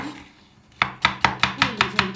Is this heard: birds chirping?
no